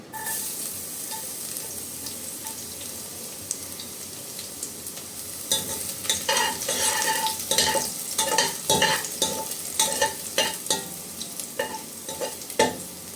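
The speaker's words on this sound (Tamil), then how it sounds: "இப்போ நெய் காஞ்சிடுச்சு பூண்டு போட்டுக்கலாம்" Garlic frying in hot ghee for potato rice, a steady close sizzle that turns busier as a utensil stirs and scrapes the pan with repeated clinks in the second half.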